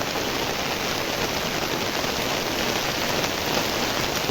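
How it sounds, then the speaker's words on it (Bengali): Heavy rain pours steadily outdoors during a storm, a dense, continuous hiss of drops hitting surfaces close by, with no speech over it. "এখানে প্রচণ্ড ঝড় হচ্ছে এই ঝড় বৃষ্টিকে উপেক্ষা করে আমি ছাতা নিয়ে বের হয়ে পড়েছি"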